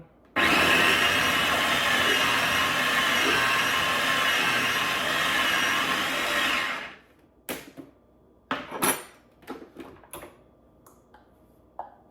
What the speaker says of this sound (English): if you don't have a food processor, you might be able to use a blender